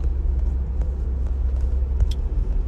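A car drives past a school, its steady low engine and road rumble heard from inside the cabin, with faint brief ticks over the drone and no talking.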